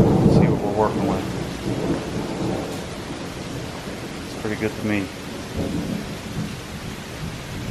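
Rain pours steadily with low rumbling thunder underneath, while someone talks over the storm noise.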